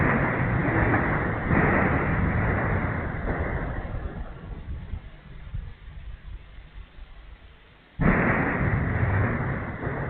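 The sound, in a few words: multiple explosions of Ukrainian drones in Rostov region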